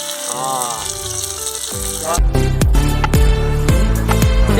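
Onions dropped into hot oil in a pan set up outdoors by a river, breaking into a loud, steady sizzle partway through, with strong rhythmic music playing over the cooking throughout.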